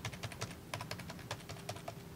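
Computer keyboard keys are tapped in quick, irregular bursts, around a dozen close clicky strokes from movement keys such as W, A, S and D, fairly quiet and with no voices.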